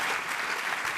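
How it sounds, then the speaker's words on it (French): Brief burst of audience applause at an ESTP women's awards ceremony, a dense, steady patter of many hands clapping alone at moderate loudness. "Qu'on l'applaudisse."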